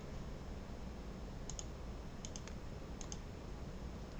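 Computer keyboard keys clicking in a few small clusters, faint and fairly close, over a steady low background hum while settings are adjusted at the start of a PC game.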